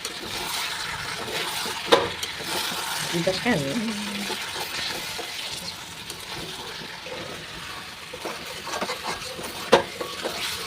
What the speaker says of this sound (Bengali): এরকম করে আমি এখন মাংসটাকে কষাইতেছি